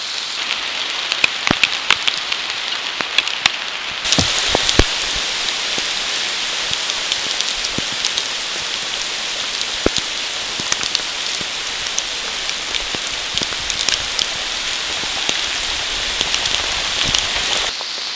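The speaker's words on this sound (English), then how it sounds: "I love this rain." Steady rain falling on a backpacking trail in the Presidential Range, a dense continuous patter with scattered louder drops striking nearby, heavier after the first few seconds, no talking.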